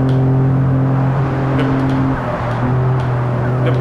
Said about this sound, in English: The blow-off valve sounds.